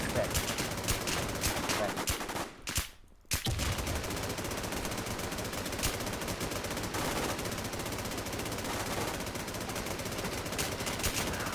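Rapid automatic gunfire from a .50 cal machine gun and a P90 in a shooting video game, dense continuous bursts with a brief gap, players chattering underneath.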